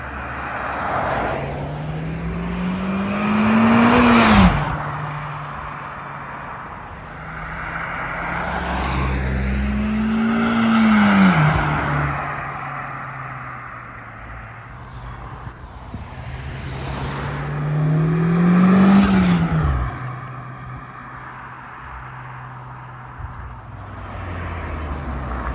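A Honda Civic Type R FK8 passes by on the road three times, each pass a rising engine note that swells to a loud peak close by and then fades away, with steady road and wind noise between passes.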